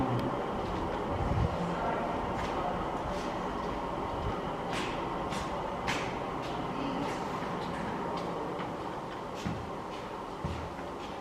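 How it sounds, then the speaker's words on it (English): A 1960s-era New York subway car, a 1961 model, rides along with a steady loud rumble and rattle throughout, broken by sharp metallic clicks and squeaks of wheels on track joints. "So this is a subway train of the 60s."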